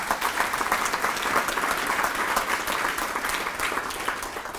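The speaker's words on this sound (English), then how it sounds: "we should applaud for that" An audience at a town's state-of-the-town address breaks into sustained applause, a dense, even wash of many hands clapping that holds steady throughout and tapers slightly at the end.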